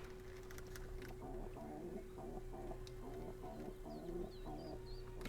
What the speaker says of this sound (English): The parrots being loud and cranky about bedtime.